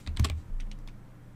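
A short run of keystrokes on a computer keyboard, a few close, quick clicks typing into Windows 10 settings, followed by a second softer cluster.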